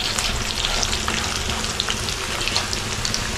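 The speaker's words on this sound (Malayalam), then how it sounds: "നമ്മുടെ ചെമ്മീനൊന്ന് അതിനകത്തിട്ട് വറുത്ത് കോരി" Prawns fry in hot oil with curry leaves for a prawn pickle, producing a loud, close, continuous crackling sizzle with small pops scattered throughout.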